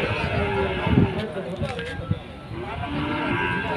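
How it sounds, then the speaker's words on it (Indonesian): A Pegon cow moos close by, a low drawn-out call over steady background noise, with other livestock sounds and someone talking nearby. "Nah seperti ini tuh sapinya."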